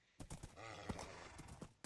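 Horse hooves clip-clop in a video game, a quiet run of several quick hoof knocks with a faint whinny-like tone in between, low in level.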